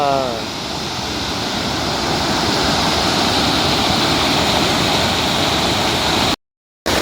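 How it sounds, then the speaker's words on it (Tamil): Water overflowing from a lake rushes and roars steadily like a waterfall, a loud continuous wash of sound close by. "தண்ணி கொஞ்சம் அதிகமாக போயிட்டு இருக்க மாதிரி இருக்குது"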